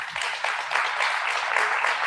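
An audience claps steadily in a dense, continuous wash of applause for about two seconds, with no pause and no talk over it.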